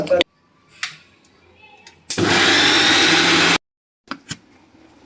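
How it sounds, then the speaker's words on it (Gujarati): A mixer grinder roars loudly for about a second and a half, grinding khichdi into dosa batter between short knocks and clatters, then cuts off abruptly. "આપણે મિક્સરના જારમાં નાખી ખીચડી પછી આપણે મિક્સર બેટર તૈયાર કરવાનું છે"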